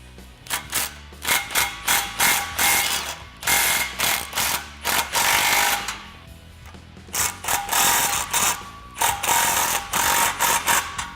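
A hand ratchet clicks as it tightens the exhaust clamp bolts on a 2009-2014 Challenger 5.7L HEMI cat-back system, fast rhythmic bursts of loud, close pawl clicking with brief pauses between strokes.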